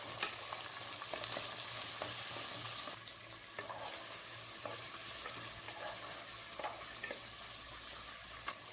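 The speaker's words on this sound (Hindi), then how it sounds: "प्याज को हल्का सा भून लें।" Chopped onions fry on high flame in a pan, a close steady sizzle with occasional crackles and spoon stirring clicks, no talk.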